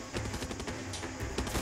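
Rapid bursts of enemy gunfire crackle at moderate distance in Far Cry 6, quick sharp shots clustered into a short fusillade, fairly quiet and without talking over it.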